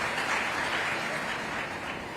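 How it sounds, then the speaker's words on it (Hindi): Audience at a religious assembly (dharma sansad) in Ujjain breaks into applause, a dense, steady wash of clapping that holds at an even level throughout with no voices standing out. "वाह, तालियां हो जाए इस बात पर।"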